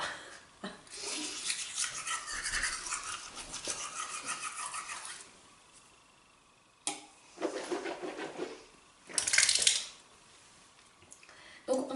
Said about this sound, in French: continuer à se brosser les dents et au fur et à mesure qu'on se brosse les dents